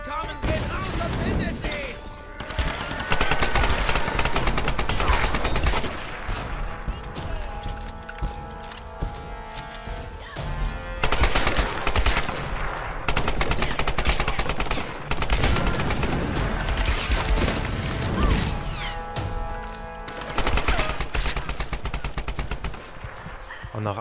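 Rapid video game gunfire in bursts of machine-gun fire, loud and dense, broken by short pauses over a busy game soundtrack.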